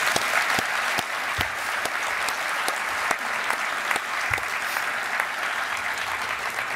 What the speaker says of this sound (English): you deserve a round of applause for sure